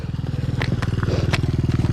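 A pit bike engine chugs close by in a fast, even pulsing rhythm, loud and rough, on an icy surface.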